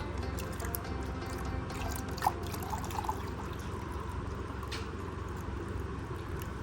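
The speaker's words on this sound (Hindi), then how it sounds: "इसमें थोड़ा सा हम पानी डालेंगे इंशाअल्लाह" Water poured from a clay pot into a glass, a steady soft trickle and splash running throughout, fairly quiet against a light background hiss.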